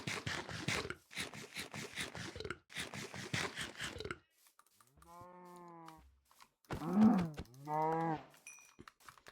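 A cow moos twice in the Minecraft video game, drawn-out low calls following a stretch of quick gameplay clatter, fairly close and clear with no talking.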